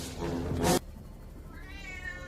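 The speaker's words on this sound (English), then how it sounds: "I'm just feeding my cat really quick, as you can hear." A pet cat meows while being fed at home: one loud, drawn-out meow up close, then a short pause and a softer, higher-pitched second meow trailing off, with no talking.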